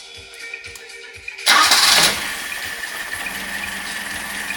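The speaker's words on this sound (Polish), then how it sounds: "Silnik odpala bez gazu." A 1979 Toyota Celica's 2T-B engine, hot, cranks briefly with no throttle and catches, bursting loud for about half a second before settling into a steady, even idle close to the microphone.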